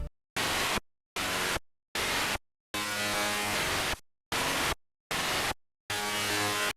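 Harsh, distorted Serum synthesizer notes with a Coldfire distortion effect play in short rhythmic bursts separated by silence, gritty and buzzing with a couple of longer held chords.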